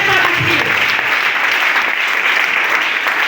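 A congregation at a French-language deliverance prayer service applauds, giving a dense, steady wash of clapping from many hands close by, with voices mixed in underneath.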